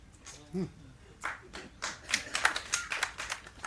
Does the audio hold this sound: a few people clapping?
yes